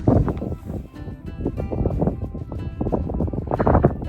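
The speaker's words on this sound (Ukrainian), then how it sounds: "Цей вітер постійно, зараз трошки стихне" Strong, gusty wind on a Welsh clifftop buffets the microphone in irregular low, rumbling blasts, loud and close, with no voices heard.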